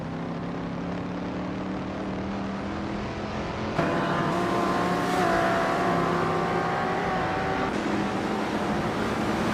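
Race cars in a racing video game, including a 1965 Lamborghini 400 GT, a steady droning engine whine from several cars that swells louder partway through and holds at a constant level.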